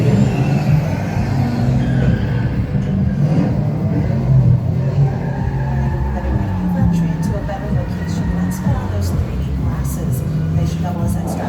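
A car engine revving effect on the Fast & Furious ride at Universal Studios Hollywood, a steady loud engine rumble running throughout beneath a narrator's voice and crowd noise.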